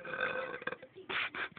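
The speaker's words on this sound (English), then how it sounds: "Here's a regular burp." A single plain human burp, close and fairly faint, a drawn-out croaky belch broken into a few gulping pulses.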